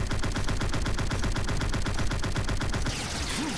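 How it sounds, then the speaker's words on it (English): Sustained machine gun fire from the anime Dr. Stone, a rapid continuous rattle of loud shots with no pauses that shifts into a sweeping burst near the end. "Machine gun!"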